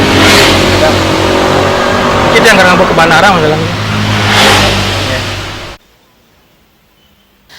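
Traffic of excavation trucks on a public road in Indonesia passes with engines loud and close, rumbling and revving for several seconds before cutting out abruptly, while a voice speaks over it.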